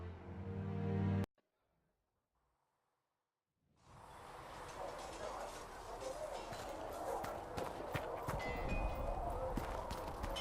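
A brief tonal sound cuts off into near silence, then rapid horse hooves clatter in over a rumbling background and keep going, growing slightly louder, in the video game Dragon Age: Inquisition.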